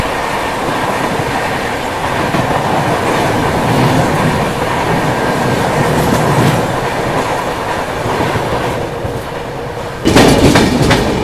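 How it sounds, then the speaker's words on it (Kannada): A passing Patna Kota Express train near Mathura heard from an Indian train, a loud steady rumble of wheels with clickety-clack and a sharp swell of noise near the end. "ಪಟ್ನಾ ಕೋಟಾ ಎಕ್ಸ್ಪ್ರೆಸ್ ಕ್ರಾಸ್ ಮಾಡತ್ತೇವೆ ನೋಡ್ರಿ ನಾವಿಲ್ಲಿ ಮಥುರಾ ಒಳಗೆ"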